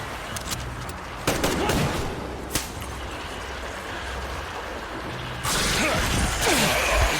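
Gunfire crackles in the game Metro Exodus. Scattered sharp shots and short bursts ring out, and a heavier sustained volley erupts toward the end.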